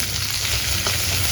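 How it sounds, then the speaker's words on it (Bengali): Chopped onion dropped into hot frying oil left over from frying fish in a village kitchen gives a steady, close hissing sizzle with a low background hum. "মাছ ভাজা শেষ, এখানে আমি পেঁয়াজ কুচি দিয়ে দিই।"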